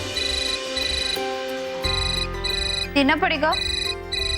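A phone ringtone plays a repeating electronic melody, close and clear, while people speak over it.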